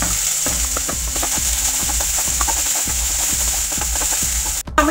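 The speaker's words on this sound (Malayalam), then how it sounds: "നമ്മൾ ക്യാപ്സിക്കും സവാളയും നന്നായിട്ടൊന്ന് മൂത്തിട്ടുണ്ട്" Onion, capsicum and spring onion sizzle in a hot pan with a constant frying hiss, broken by regular rhythmic stirring scrapes and a sharp knock right at the end.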